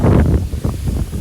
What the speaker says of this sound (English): As you can hear, the wind is very high, gusting about 30 knots.